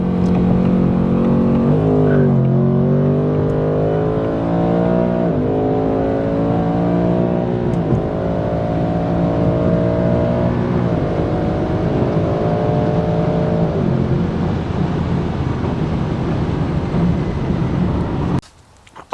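2024 Ford Mustang GT V8 on the highway, loud sustained engine drone with repeated upshifts and rising revs, cabin rumble throughout and no voices, cutting off abruptly near the end.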